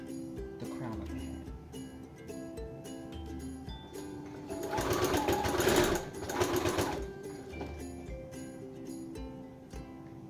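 Sewing machine stitching fabric around the crown of a hat, a steady rapid mechanical chatter that runs in bursts with short pauses and swells louder midway, heard alone without talk.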